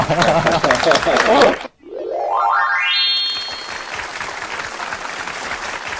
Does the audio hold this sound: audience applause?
yes